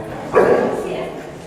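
A dog gives a single close bark that fades off over about a second.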